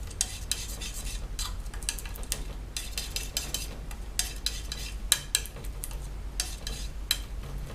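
Oil paint being mixed on a palette with a knife or brush, giving soft, repeated scraping and dabbing taps up close, fairly quiet and with no speech.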